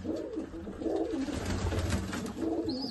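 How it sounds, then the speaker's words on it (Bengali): Restless pigeon held in the hands, giving soft throaty coos in a few repeated rising-falling phrases, close and fairly quiet, alone without talk. "পায়রা এত ছটপটে তা বন্ধুরা ধরে রাখা যাচ্ছে না"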